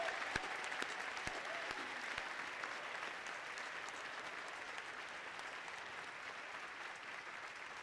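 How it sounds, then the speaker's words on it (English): Sustained audience applause at the Northern Vermont University Lyndon commencement ceremony, a dense, steady wash of many hands clapping that continues evenly throughout with a few louder claps near the start. "let's give her a big round of applause"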